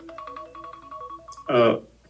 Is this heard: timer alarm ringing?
yes